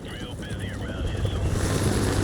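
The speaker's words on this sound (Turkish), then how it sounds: "Düşman helikopterleri geliyor yine." Enemy helicopters in Call of Duty: Modern Warfare Remastered, heard as a steady, loud rotor drone filling the scene, with game sounds and some voice activity over it.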